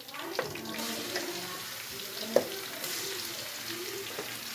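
Low steady sizzling and crackling of boneless chicken frying in oil with garlic, fairly quiet, with occasional clinks and stirring sounds.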